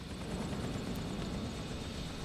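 A helicopter's steady rotor drone hums throughout, fairly quiet and even, with no voices over it, in the video game Grand Theft Auto IV.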